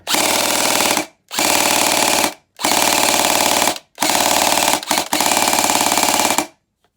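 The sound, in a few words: gel blaster with LDT gearbox firing on full auto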